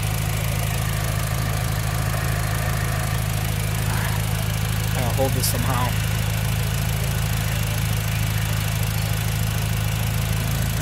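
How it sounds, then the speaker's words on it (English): A steady low engine idle of a 2006 Mitsubishi Lancer Evolution IX MR hums throughout, with someone speaking briefly over it. "let's hear this engine"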